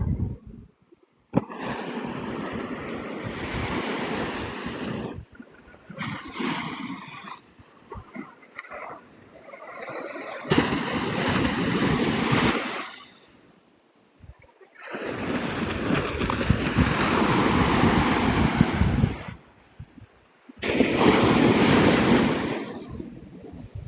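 Ocean surf at Navarre Beach, Florida, rolls in as loud repeated wave washes separated by brief quieter lulls, with some wind rumble against the microphone.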